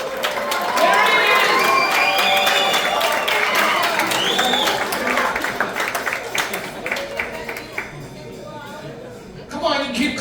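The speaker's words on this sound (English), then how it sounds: "Come on, you keep clapping." A theater audience at a late-show Charlie Brown Christmas performance applauds and cheers as Santa Claus arrives, loud dense clapping with shouts and excited voices, including children, tapering slightly before a final swell.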